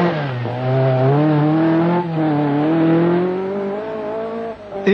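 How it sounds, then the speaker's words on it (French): A rally car engine revs loudly and steadily with a rising, wavering pitch, tires scraping and sliding briefly on gravel at the end during a handbrake turn through a hairpin, at the 1980 Tour de Corse rally. "Épingle au frein à main, ça glisse sur le gravier."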